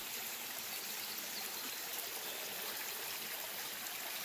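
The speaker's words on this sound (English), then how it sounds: "another little nice creek to walk over. Had a lot of water." Small forest creek running full of water along a hiking trail, a steady, soft, continuous rush and trickle heard alone, faint and even throughout.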